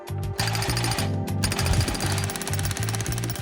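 A jackhammer breaks concrete on a demolition site. It gives a loud, steady rapid hammering, close by, with brief pauses and shifting metallic clatter and no voices.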